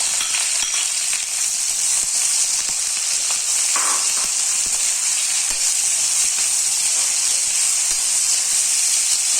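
Two large finely chopped onions fry in hot oil for a pepper squid dish, a loud, dense, unbroken sizzle with steady hiss and occasional small crackles, close up and with no voices.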